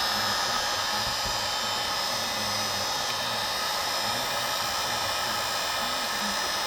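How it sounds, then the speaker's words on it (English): A heat gun blowing on a Honda CB450 motorcycle, a loud, steady, close whooshing airflow with a constant motor whine that runs unchanged throughout. "I'll take the old heat gun to it, see what it does."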